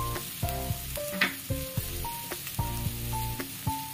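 Ground coriander, cumin and turmeric hit hot oil in a frying pan for a Bengali muro ghonto, sizzling steadily with stirring clatter and utensil taps, close and fairly loud, with no talk.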